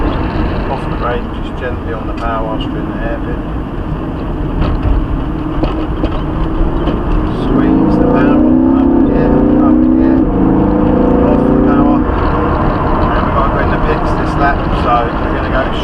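A Lamborghini Huracan circles the Dunsfold Aerodrome track, its engine humming steadily from inside the cabin, then swelling into a louder, rising roar as power comes on out of a hairpin.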